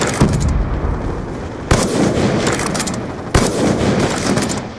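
Sniper rifle fire rings out in a Call of Duty Black Ops 2 team deathmatch. Three loud, close shots are spaced about a second and a half apart, and each sharp crack trails into a long rumbling decay.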